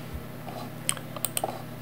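Computer keyboard keys tapped a few times in quick succession for a Ctrl+H shortcut in Microsoft Word 2010, faint close clicks over a steady background hum, without talking.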